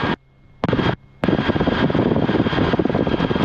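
Steady, loud rotor and engine roar of a Rotorway helicopter flying overhead, broken by two short near-silent gaps before continuing strongly to the end.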